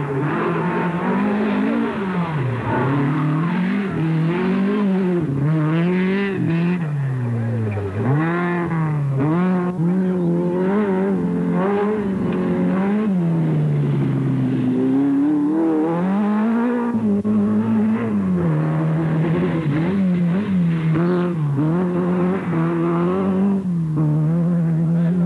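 Rally cars at the 1984 Rally Costa Smeralda on a rough, rutted road; engines roar and rev loudly and continuously, rising and falling with gear changes, with occasional tire squeal.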